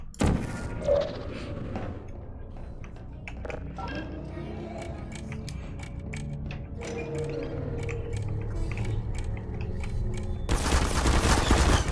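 Rapid gunfire bursts from the video game Portal, a dense run of sharp cracks under a steady mechanical hum, swelling louder near the end.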